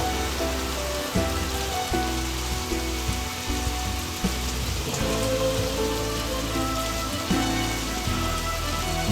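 Steady rainfall patters densely on a nearby surface with a sizzling, crackling texture and occasional heavier drops, continuous and even with no one speaking.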